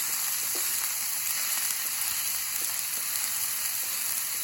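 Lean 90-10 ground beef sizzles steadily in a pan, a continuous close frying crackle with faint pops and no talk.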